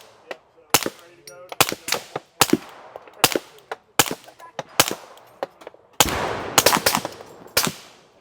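Suppressed Staccato C2 pistol fitted with a Mod 9 suppressor firing subsonic rounds at an outdoor range day, a dozen or so sharp muffled reports in irregular bursts and quick pairs, fairly close, with no talk over them.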